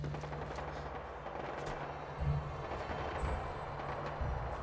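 Distant, muffled video game gunfire in Fallout 4 VR rumbles faintly beneath a steady background hum, with a few slightly louder thuds.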